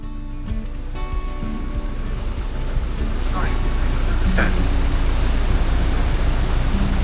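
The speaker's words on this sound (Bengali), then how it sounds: "নদীর গান শুনতে পাচ্ছ নিশ্চয়ই, অসাধারণ। দুদিক থেকে দুটো এসে মিশেছে।" The Jhalong river at a confluence where two streams meet, its water rushing in a broad, steady roar that grows a little louder, with brief faint sounds over it.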